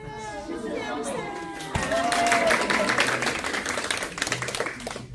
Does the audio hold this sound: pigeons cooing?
no